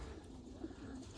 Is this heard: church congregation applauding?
no